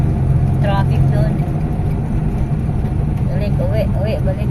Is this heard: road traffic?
yes